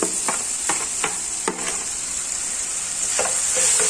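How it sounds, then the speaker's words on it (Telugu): Mint, coriander and fenugreek leaves fry in a hot pan with a steady bright sizzle, while a spoon scrapes and stirs in several soft knocks, close and without talk. "ఇవి కూడా బాగా ఫ్రై చేసేసుకోవాలి. చూసారు కదా, బాగా వేగిపోయాయి."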